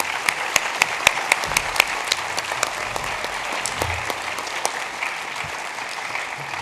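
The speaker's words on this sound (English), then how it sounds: "Will you please give them another round of applause?" Audience applauding students at an ISD school board meeting, steady dense clapping throughout with sharp individual claps standing out, close and sustained.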